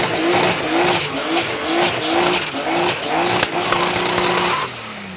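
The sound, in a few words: turbocharged Nissan 350Z race car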